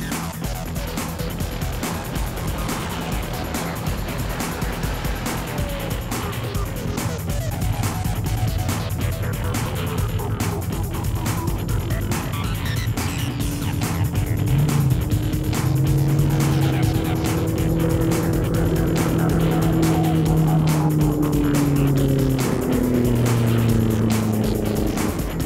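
The JCB Dieselmax diesel land-speed record car accelerates through its gears on a record engine, its engine tone climbing steadily and shifting up in a continuous, moderately loud run with no voices.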